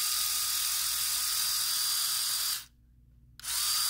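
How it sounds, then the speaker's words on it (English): A regular LEGO Mindstorms EV3 robot motor runs with a steady, close electric whir, cutting out briefly near the end before starting up again. "So there's the regular motor"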